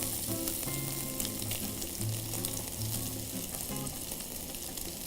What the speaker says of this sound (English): I'm just gonna go ahead and sear the little sides